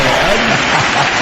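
A studio audience applauds on a television talk show, a dense, loud, steady clatter of clapping filling the whole moment, with voices faintly mixed in beneath it.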